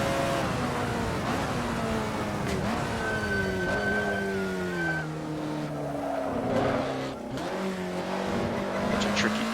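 Alfa Romeo 33 Stradale engine on a hot lap in the racing game Assetto Corsa, a loud continuous engine note rising and falling through gear changes and downshifts, with a brief tire squeal.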